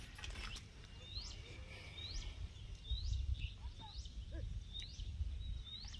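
A peacock calls repeatedly in village countryside near Bhadravati, Chandrapur: a series of short rising cries spaced about a second apart, moderately distant, over a steady low outdoor rumble.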